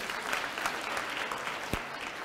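Continuous applause from a conference audience at a mathematics education congress, many hands clapping together at a steady level, briefly punctuated by one sharper clap near the end.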